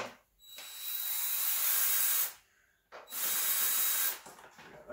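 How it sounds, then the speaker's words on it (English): A power driver with an 8mm socket unscrews bolts from the side panels of a Kawasaki KLX110 dirt bike, making two close, whining bursts of about two seconds each with a short pause between. "Everything should come off with an 8mm socket."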